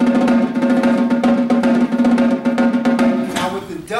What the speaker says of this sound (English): when you take the snares off, it sounds like a traditional duff from the days of the Sahaba